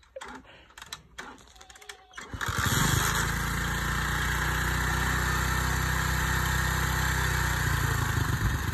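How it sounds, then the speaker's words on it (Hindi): Motorcycle engine cranked over with a few sputtering attempts, then catching and settling into a loud, steady, close idle that holds for several seconds. "थोड़ा रेस दे दे,"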